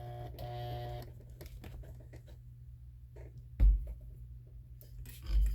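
A sewing machine is hand-walked through a couple of stitches on a reusable scrubbing sponge, with cardboard under the back of the presser foot. Soft, quiet mechanical ticks and clicks are followed by two low thumps.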